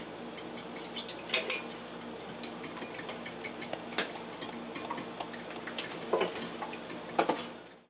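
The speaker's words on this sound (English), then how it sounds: "After the egg's nice and beat, simply add a little milk." An egg beaten with milk in a bowl, quick light clinks and taps of a utensil against the dish in an uneven rhythm, close and fairly quiet with no talking.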